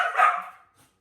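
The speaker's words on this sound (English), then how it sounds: "Apparently the dogs are upset about something back here, sorry." Dogs bark in one short, loud burst that fades quickly, with a faint second yip just after, heard from nearby in a home with no talking.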